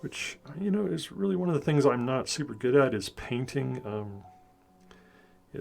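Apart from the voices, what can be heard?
No everyday noises stand out.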